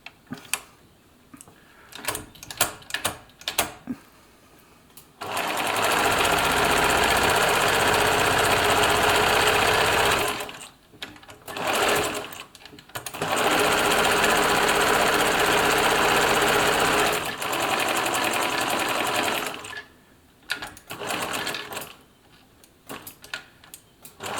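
A Bernina Nova 900 electronic sewing machine stitching a buttonhole, loud buzzing motor runs in several bursts of a few seconds each, with short pauses and quiet clicks between them.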